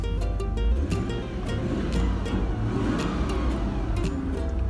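A Land Rover Discovery with a failed transmission is held in drive while its engine revs, producing a steady, loud, close engine drone and rumble that rises slightly without change, with no talking.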